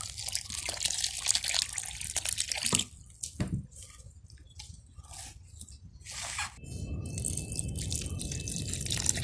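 Water poured and stirred into roasted uzhunnappam batter in a home kitchen, with wet dripping splashes and squishing, then a steadier running pour toward the end, close and fairly loud.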